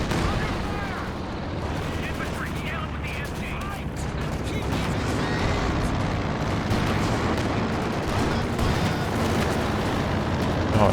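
Anti-infantry strafing run from close air support in a Company of Heroes 2 2v2 match, a dense, sustained roar of rapid gunfire and blasts over continuous battle noise, with talk over it.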